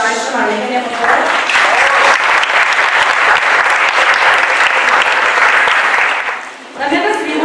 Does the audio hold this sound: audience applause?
yes